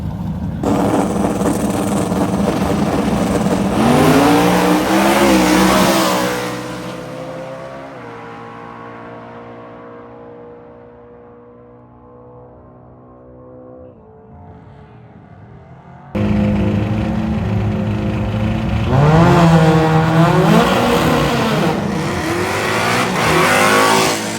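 Naturally aspirated small-block drag cars launching at a drag racing event: a loud, close engine roar climbs through the revs, fades away into the distance, then a second loud burst of revving engine noise cuts in and holds.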